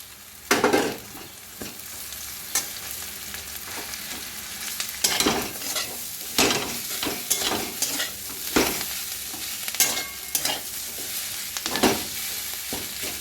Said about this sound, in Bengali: চিড়েটা দিয়ে খানিকক্ষণ একটু ভেজে নেব।